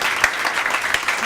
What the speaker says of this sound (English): let's just give a round of applause to the parents and the family members who are here today